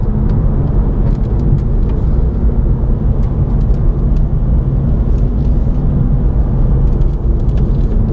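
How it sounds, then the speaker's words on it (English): A BMW M2 Competition with turbocharged engine is driven on twisty roads, a loud, steady, close engine roar filling the cabin throughout, with no speech. "I don't know if you can hear the turbos spooling up."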